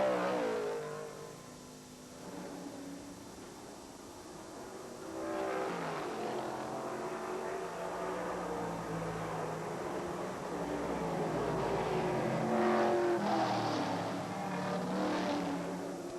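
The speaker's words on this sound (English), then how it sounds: "Coming down the hill to turn number 12, car number 32, Jerry Dunbar of Illinois" Engines of SCCA GT-1 race cars at the 1980 national championship roar and rise in pitch as the cars accelerate past on the circuit, several passes building from moderate to loud, heard without talk.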